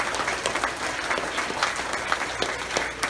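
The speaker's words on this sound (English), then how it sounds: "could we give the staff a round of applause?" Parents and students at a school assembly clapping for the staff, a sustained, even round of many hands close by, with no voices standing out.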